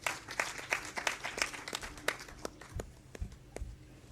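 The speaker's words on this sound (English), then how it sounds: "Please, a round of applause for our presenters before they leave the dais." Audience applause for presenters at the end of an academic question-and-answer session, a steady patter of many hands clapping that thins into a few scattered claps, moderately distant in a hall.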